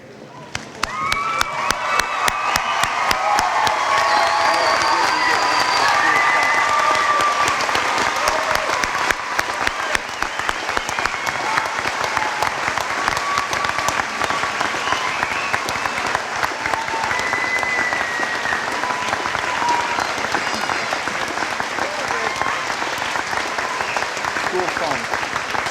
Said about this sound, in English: Ladies and gentlemen, let us stand and applaud the graduates.